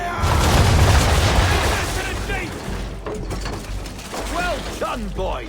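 Ship cannons firing in the naval battle game Assassin's Creed III, a loud booming volley at the start with mechanical rattling and clatter as it fades, followed by shouted commands from a voice.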